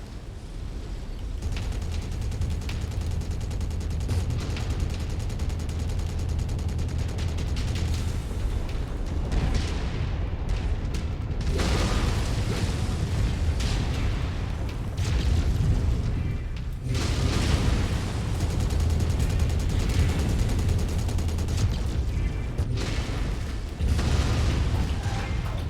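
Video game battle with continuous gunfire and booming explosions, a dense, loud rumbling barrage that runs without pause, with brief dips and renewed bursts of heavy impacts.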